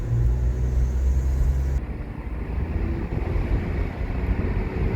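An older BMW car driving and downshifting hard after sitting unused for a long time, a loud steady engine and road rumble with wind buffeting that eases slightly partway through, heard from inside the car.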